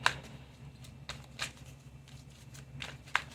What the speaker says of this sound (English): I didn't mean to shuffle the cards